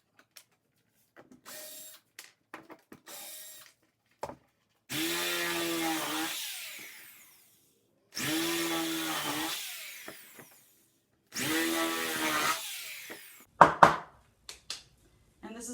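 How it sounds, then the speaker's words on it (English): A power drill with a 3/8 inch paddle bit bores through wood in three separate bursts of whirring, grinding drilling, each lasting about two seconds, with scattered clicks and handling knocks between them, close and clear. "I'm actually going to use a 3/8 inch paddle drill bit that's slightly larger than a 1/4 inch to allow this rope to pass through"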